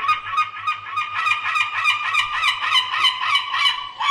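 Seagulls squawking inside a room, a dense run of loud, harsh, honking calls repeating rapidly with no pause, close and alone with no talking, against a faint low steady hum.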